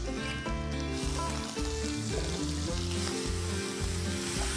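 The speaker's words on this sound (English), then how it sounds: "the first thing that goes in the oil is crushed ginger, garlic and green chilies" Crushed ginger, garlic and green chilies with onions frying in hot oil, a steady close sizzle running through with soft stirring bumps and background music.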